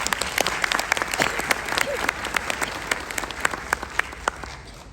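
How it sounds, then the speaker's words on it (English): Big round of applause from the audience at an international yoga conference, many hands clapping together with sharp individual claps standing out, steady throughout, with a faint crowd murmur beneath. "Please give her a big round of applause."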